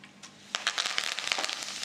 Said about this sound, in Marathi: तेल चांगलं तापलेलं आहे। आता मोहरी, जिरे, थोडंसं हिंग, आणि आपण जे मगाशी ठेवले ते थोडेसे तीळ,